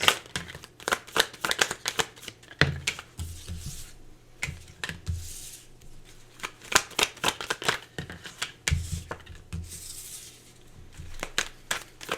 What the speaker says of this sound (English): Let me just pull some cards